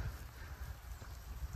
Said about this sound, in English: It's drizzling on me out here.